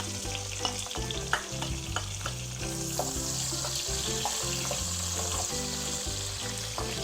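Onions and cumin seeds frying in a pot for a Trinidad-style curry chicken stew, a continuous bright sizzle with occasional scraping stirs and small pops, close and steady throughout with no talk.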